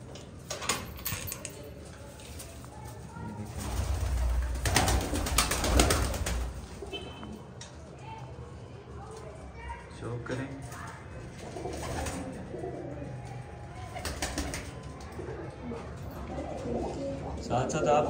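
Pigeons coo softly in a breeder loft, repeated low throaty calls scattered throughout alongside wing flutters and light clinking of dishes, with someone talking over them.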